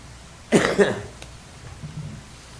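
A single short burst of coughing, a couple of harsh rasps close to the microphone, then quiet room tone.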